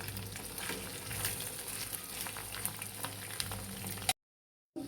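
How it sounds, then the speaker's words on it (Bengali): Lobster, a giant prawn, lightly frying in oil sizzles and bubbles close by, with scattered crackles and pops over a steady hiss, then cuts abruptly to silence near the end. "তেলে ভাজতেছি, হালকা ভাজা দিব"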